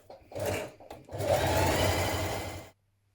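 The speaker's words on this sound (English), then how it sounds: "Stay stitch around the neck of your dress." A sewing machine stay stitches around a hoodie neckline, with a short burst, a brief pause, then a longer steady run of fast stitching, close and fairly loud, ending abruptly.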